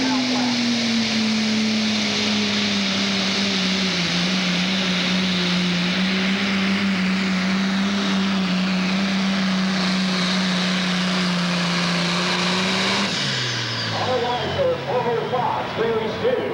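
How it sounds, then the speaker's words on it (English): A pro stock pulling tractor fitted with a single turbocharger, competing in a 7,700-pound class at a state fair pull. It gives off a loud, sustained engine drone that holds steady, then drops away sharply near the end. "this is a pro stock tractor with one turbocharger that typically runs in the pro class"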